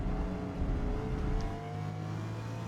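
A Toyota Supra GR racing at Hakone in Forza Motorsport, its engine a continuous loud droning whir with a steady pitch and a slight shift partway through.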